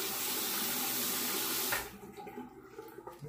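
Tap water gushes loudly into a sink to wet a Gillette Slim Adjustable razor, then cuts off abruptly, leaving a few quiet drips and handling noises.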